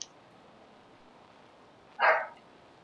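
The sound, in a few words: dog barking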